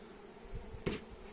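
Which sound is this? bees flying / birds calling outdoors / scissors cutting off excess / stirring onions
bees flying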